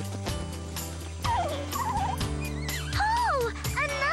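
Cartoon bird calls in an animated children's show about a bird building a nest, with loud, warbling whistled chirps and swooping trills over a steady musical background, repeating through the scene without any talk.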